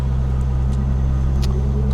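A 1969 Mercedes-Benz 280SL with automatic transmission and original engine drives along, its steady low engine rumble and road noise continuous and fairly loud throughout, with faint brief clicks above.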